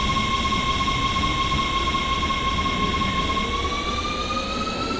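A WMATA 1000 Series Rohr metro train on the Red Line departs in the Openbve simulator game, a steady loud rolling drone carrying a sustained motor whine that slowly rises in pitch as it accelerates.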